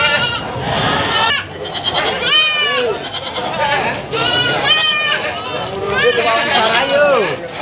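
Young and breeding goats bleating at the Pasar Legi livestock market in Munjungan, Trenggalek, East Java, in the morning, with repeated wavering calls overlapping amid constant crowd chatter and talking.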